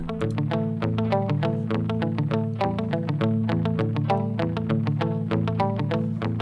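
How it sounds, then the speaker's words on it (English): Two electric guitar parts recorded in a home studio interlock in a syncopated, chasing rhythm, playing bright, repeated plucked notes steadily and closely together throughout. "here's just the 2 guitar parts together"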